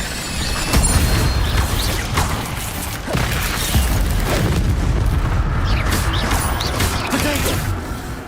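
A fire spell is cast in Hogwarts Legacy, played on PC: loud booming, crackling blasts repeat across the stretch over a dense, noisy game mix, with a voice speaking briefly.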